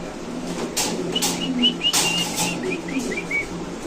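A white King pigeon set down on the ground for buyers to see, with a string of short bright chirps and whistles repeating through the middle and light flapping, all fairly close over a quiet background.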